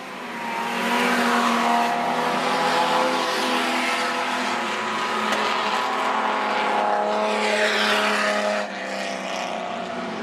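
Outlaw sedan race cars roar down the main straight at Macs Speedway during a night race meeting, a loud, sustained engine drone that swells and shifts as the cars pass close by, with no talk over it.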